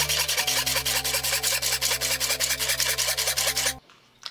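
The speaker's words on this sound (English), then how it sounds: "I'm doing about a third of an inch every time I make a cut." A hand saw cutting wood for a saw till, a close, loud run of quick, even rasping strokes, roughly four to five per second, that ends abruptly and leaves a quiet tail.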